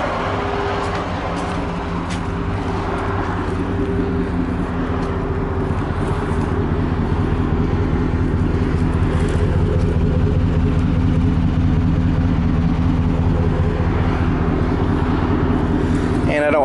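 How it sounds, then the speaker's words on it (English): A 2015 Chevy Rocky Ridge Phantom truck's V8 exhaust idles steadily, a loud, close, continuous low rumble with an even pulsing throb and no revving throughout. "you're just gonna have to hear the exhaust the way it sounds at idle"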